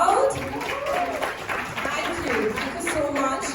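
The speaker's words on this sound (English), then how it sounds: "we all are waiting for a round of applause from all of you" An audience at a Dish TV Smart+ launch event applauds with a steady round of clapping and crowd noise, and a voice speaks over it.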